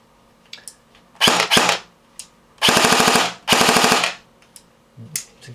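An OA-15 rifle fitted with an M7 suppressor on RIS rails fires several rapid bursts of loud, close, clipped shots, separated by short gaps with a few single mechanical clacks, and no talking.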